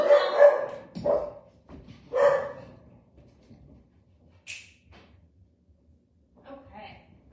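A dog barks indoors, a few sharp, fairly close barks at the start, then a quieter whimper or yip later, with someone speaking between them.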